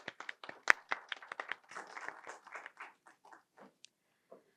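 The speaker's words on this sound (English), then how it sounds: "Can we have a round of applause?" Sparse applause from a small audience at an event: a handful of people clap unevenly for a few seconds, then it dwindles to isolated claps, with no speech.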